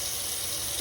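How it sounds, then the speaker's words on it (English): Hot water running from a kitchen tap while preparing to cook rice, a steady, even hiss of flowing water with no breaks over a brief moment. "I get that water running, it's real hot until it's really hot."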